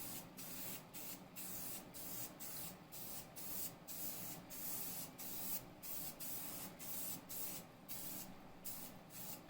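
Gloss black spray paint hissing from an aerosol can onto rusty metal straps and a support bracket from a Pontiac Fiero, in repeated short bursts with brief gaps, close and steady, with no talking.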